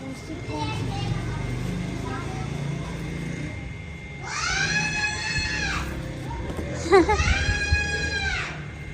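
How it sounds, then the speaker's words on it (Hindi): Children shriek in two long, high-pitched bursts in a home, rising and falling, loud and close, over a background of household noise and murmuring voices. "क्यों चीख रहे हैं बच्चे?"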